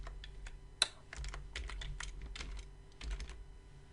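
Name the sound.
typing a web address on a computer keyboard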